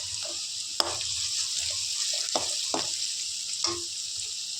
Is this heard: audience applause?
no